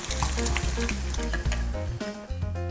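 Battered shrimp being shaped and fried in hot oil for tempura. Loud, dense sizzling runs throughout, with repeated clinks of utensils close by and no talking.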